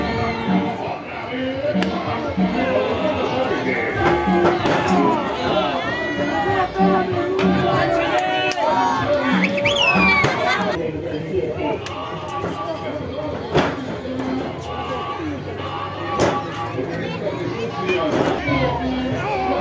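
A lucha libre wrestling crowd keeps up a loud, continuous roar of cheering and clapping for the wrestler, with an announcer's voice speaking over the noise.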